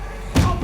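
A single heavy video game door slam lands abruptly after a quiet moment, a sharp thud followed by a short ringing decay.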